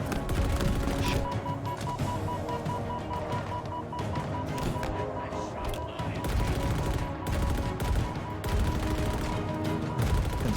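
Sniper and other gunfire in a Halo Infinite match, a steady barrage of sharp shots and bursts running continuously for several seconds amid game effects.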